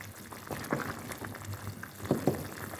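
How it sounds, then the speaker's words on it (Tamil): A pot of prawn and turkey berry curry bubbling at a low, steady simmer, soft popping and gurgling bursts close by with faint kitchen background hum. "நல்ல வடிவாக குழம்பு கொதித்து வந்துட்டு பாருங்க"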